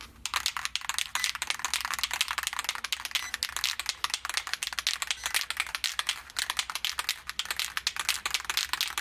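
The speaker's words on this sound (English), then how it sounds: "you got to shake this up really well" A can of wrinkle spray paint being shaken hard, a close, rapid, continuous rattling of the mixing ball against metal with a fast, even rhythm throughout.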